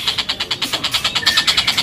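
A captive tengkek kingfisher calls without pause, a loud, close run of rapid, evenly spaced chattering notes, roughly eight per second, repeating steadily with no other sound.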